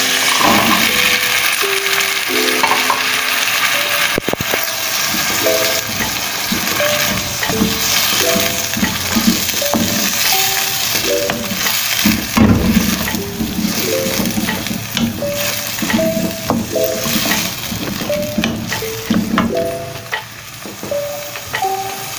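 Black chickpeas and tomato puree sizzle and fry in a pan with steady scraping and stirring throughout, loud and close, with occasional sharper clinks and a low hum beneath.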